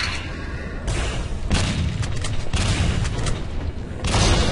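Heavy booming shotgun blasts in the arena shooter Quake 3 Arena, loud and close, several thumping shots over a dense roaring game backdrop.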